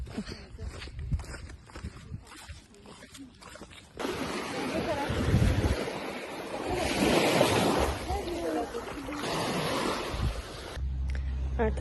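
Sea waves wash in at a beach, a rushing surf swelling louder midway with wind noise on the microphone, while people talk nearby at the start.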